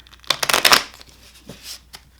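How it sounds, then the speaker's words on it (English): A deck of 1889-style Lenormand cards being shuffled by hand up close: a dense riffle burst of crisp papery flutter, then a couple of softer card slides, with no talk. "So we'll give some good shuffles here."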